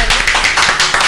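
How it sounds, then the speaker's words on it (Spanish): Sparse clapping from a small studio audience welcoming a guest on an esoteric-themed roast show, a few loose rhythmic claps, close and brief. "aplausos."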